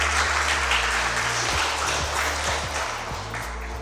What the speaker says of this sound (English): So this is the time you're going to clap for the quiz master.